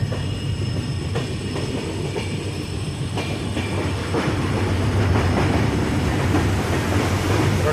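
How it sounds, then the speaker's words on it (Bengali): Tourist express train from NJP to APDJ slowing beside the Ghish river, with steady loud rolling rumble, faint rhythmic wheel clicks and occasional metallic squeals, continuous throughout with no talk. "ঘিস নদীর সামনে কিন্তু ট্রেনটা স্লো হয়ে গেল"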